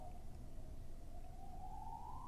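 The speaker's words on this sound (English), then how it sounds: "Now there's a siren" A distant siren wails steadily, its tone slowly rising toward the end, faint over a low rumbling background.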